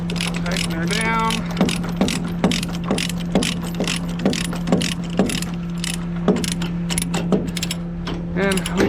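A ratchet strap is tightened on a trailer carrying a John Deere 710 backhoe with a flat tire, giving a series of sharp, evenly spaced ratchet clicks close by over a steady engine drone.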